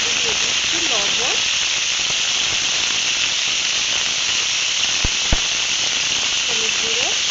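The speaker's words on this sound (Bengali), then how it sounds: "এবার একে একে ফুলকপিগুলোকে ভেজে নেব।" Cauliflower florets frying in hot oil in a wok, a steady dense sizzle and hiss running throughout at even loudness, with a couple of sharp pops near the end and a voice speaking briefly over it.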